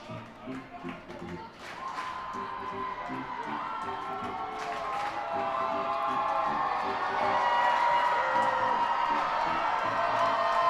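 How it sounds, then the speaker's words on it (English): A minor-league baseball crowd at a Reading Fightin Phils versus Akron RubberDucks game roars with cheers and whoops that swell steadily louder, with the tying run on second base and voices mixed into the din. "The crowd is roaring here."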